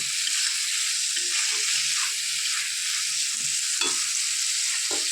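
Clams dropped into a hot pan for a home-cooked clam dish sizzle steadily, a bright continuous fry with soft stirring knocks and occasional louder bursts as pieces settle.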